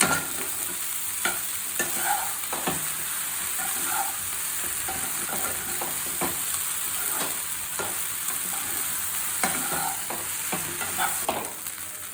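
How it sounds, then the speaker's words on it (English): Masala idli made from leftover idli being tossed and stirred in a hot pan, a steady sizzle with repeated scraping and clinking spoon strokes throughout, close and fairly loud, with no talking. "Toss it well until everything mixes well."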